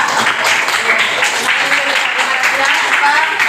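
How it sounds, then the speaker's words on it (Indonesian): Classroom students clap for two classmates, Dika and Siva, after a lesson on prayer etiquette, a continuous loud patter of many hands with voices mixed in underneath. "Kasih tepuk tangan untuk Dika dan Siva"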